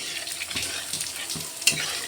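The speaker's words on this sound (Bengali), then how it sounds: "এখন সেদ্ধ করা সবজিগুলো দিয়ে দিলাম, আর ওই জলটাও দিয়ে দিলাম।" Boiled vegetables and their cooking water go into cashew paste in a pan while making Bengali sukto, giving a soft sizzle and stirring scrapes with a sharp clink near the end.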